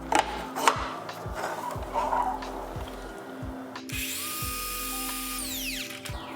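A power saw cutting a mitered return on primed wooden window casing, with rough grinding and rasping strokes that give way to a whining, spinning-down motor, close and loud with no talking.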